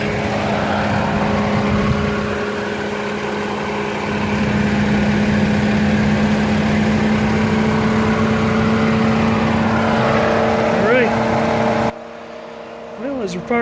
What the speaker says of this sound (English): Hear a little bit of fan noise